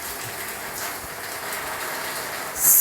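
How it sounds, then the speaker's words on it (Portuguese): Sand rain in a video game, a steady hissing, rain-like patter that is fairly loud and continuous and swells slightly near the end, with no talking. "Ai, não, a chuva de areia."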